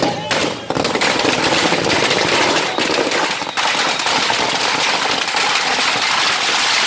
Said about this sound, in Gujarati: ફટાકડા ફોડી ઉજવણી કરી હતી.